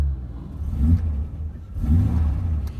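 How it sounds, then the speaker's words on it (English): A 1950s Ford Zephyr Six's engine, started by push button, idles and revs in two rising swells, a deep close rumbling mechanical drone with no talk. "let's get the car started and you can hear how she sounds"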